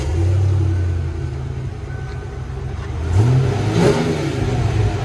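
A 1995 Ford Mustang GT 5.0L V8 with dual Flowmaster Super 10 exhaust and an X-pipe rumbles at a steady idle, then is blipped into a loud rev around the three-second mark before settling back, close to the mic.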